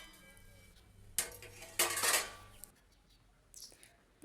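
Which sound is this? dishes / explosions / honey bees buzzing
dishes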